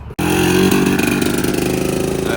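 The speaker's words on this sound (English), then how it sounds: "That classic 2-stroke soundtrack." A classic two-stroke motorbike at a car and bike breakfast meet starts up and runs with a buzzy, crackling, steady idle, loud and close, with no voices.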